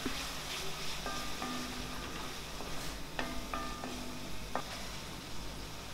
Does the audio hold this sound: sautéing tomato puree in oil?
yes